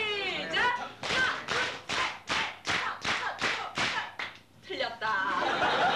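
A group of people playing a clapping game claps in unison, a rapid run of loud, sharp claps in steady rhythm, with voices and a little laughter before and after.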